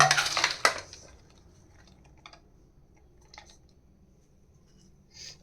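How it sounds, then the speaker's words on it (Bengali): Salad ingredients tipped slowly into a big mixing bowl: a dense rustling, clattering rush at the start ending in a sharp knock, then quiet with a few small scattered taps and clicks; no talking. "আর এতে আমরা সব জিনিসগুলো আস্তে আস্তে ঢেলে নেব"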